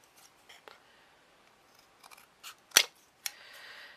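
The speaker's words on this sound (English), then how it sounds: "using these scissors, but they are good for cutting chipboard" A few light snips of scissors cutting chipboard, one sharp crisp cut standing out, then a brief scraping rasp, fairly close with quiet gaps between.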